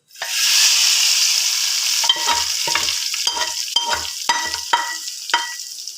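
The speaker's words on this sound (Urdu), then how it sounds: "تڑکا ریڈی ہے، اب ہم اس پہ دال پہ ڈالیں گے یہ۔" Hot tarka of oil and red chilli hisses loudly as it is poured onto daal mash, a strong initial sizzle settling into steady crackling with repeated sharp spits and pops.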